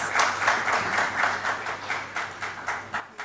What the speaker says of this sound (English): A round of applause for our contestants, please.